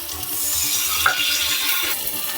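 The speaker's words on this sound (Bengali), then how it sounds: "এবার নেড়েচেড়ে ভেজে নেব" Ground drumstick paste with turmeric and chili is stir-fried in a pan, with a steady sizzle and occasional spatula scrapes against the metal, close and continuous, without any talking.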